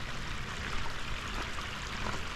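Filtered water flows steadily out of a park filtration stage into a creek in Calgary, a faint, continuous rushing and trickling with no voices.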